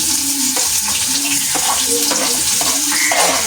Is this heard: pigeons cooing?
no